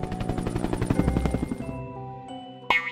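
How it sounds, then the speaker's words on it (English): A helicopter's rotor chops in a fast rhythmic pulse that dies away after about a second and a half. Steady tones and a short sharp chime follow, with no talking. "H is for helicopter."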